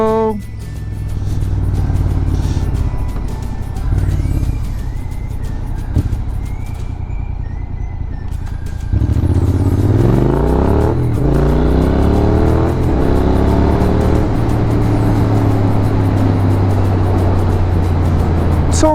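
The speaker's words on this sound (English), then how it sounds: "I wasn't expecting to see so many cars, to be honest with you." Steady engine rumble from dense London traffic during the Covid-19 lockdown, heard from a motorcycle, with a louder surge of revving and rising engine pitch about halfway through, continuing as a close, constant roar.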